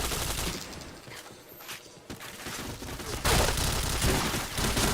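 Rapid bursts of gunfire in a mobile shooter game, fast overlapping shots running throughout and growing louder and denser in the last stretch, with no talking.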